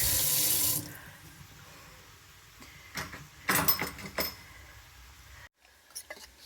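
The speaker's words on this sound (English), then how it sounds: "So I added a little bit of water and making this into little saucy paste." Water running from a tap into a small amount of ginger garlic paste with chili powder, a loud splashing pour at the start, then quieter handling with a few clinks and taps of utensils.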